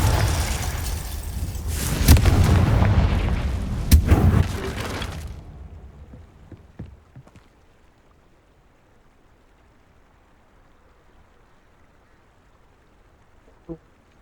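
Confringo spell explosions in the Hogwarts Legacy video game, a loud roaring, crackling blast with sharp impacts that lasts a few seconds and then drops away to near silence, with a faint pop near the end.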